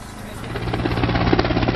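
A loud, continuous rhythmic chopping roar of helicopter rotors at a cave rescue site in Thailand, close and steady, with no voices over it.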